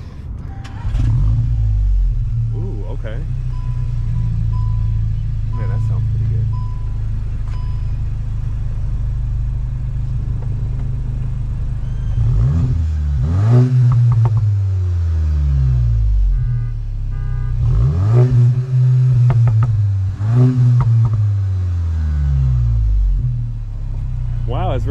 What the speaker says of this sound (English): I wanna see what this exhaust sounds like.